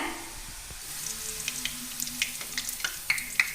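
Ragi ribbon pakoda deep-frying in hot oil, a soft continuous bubbling sizzle with light crackles and a few faint clinks, fairly quiet and without speech.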